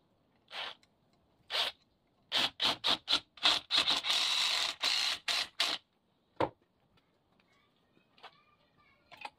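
Screws are driven into a wooden sander frame with a power screwdriver, sounding as a series of short, sharp whirring bursts in quick succession, close and fairly loud, then a pause and a few fainter final bursts.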